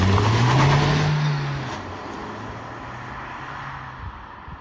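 A Golf GTI with 180bhp is driven, its engine revving up loud and close before settling into a lower, steady cruising drone with road noise.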